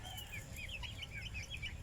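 Free-range hens on a farm after heavy rain, soft clucking and chirping calls scattered over a low steady rumble, faint and somewhat distant.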